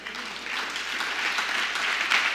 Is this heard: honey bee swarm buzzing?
no